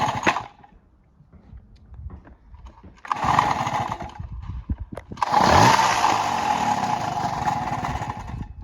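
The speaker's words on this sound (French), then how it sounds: "Maintenant, il fait ses tours nickel, il tient le ralenti." A small Coca-Cola themed moped engine sputters briefly, falls quiet, then starts again and runs with a steady buzzing drone that swells into a sustained rev, close and loud.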